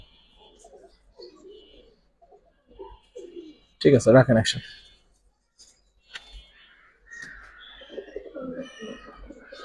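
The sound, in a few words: Giribaz pigeons cooing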